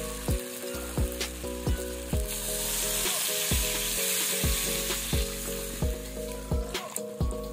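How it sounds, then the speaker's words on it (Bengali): Water goes into a pan of sizzling spiced vegetables, bringing a broad hissing surge over a continuous frying crackle. A steady series of light metallic taps from stirring repeats roughly every half second alongside a low hum. "আমি এবার এর মধ্যে জল দিয়ে দিচ্ছি"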